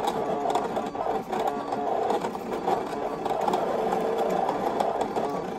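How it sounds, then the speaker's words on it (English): A Brother ScanNCut 2 cutting machine fitted with a Foil Quill traces the outline of a word, giving a continuous close mechanical whirring buzz with small rhythmic ticks and no talking. "there goes it, the machine doing the outline of the word"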